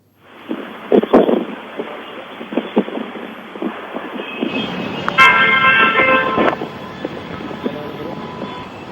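Heavy traffic at the Ghazipur border, with a dense rumble of vehicles, clattering noise and several short horn honks near and far.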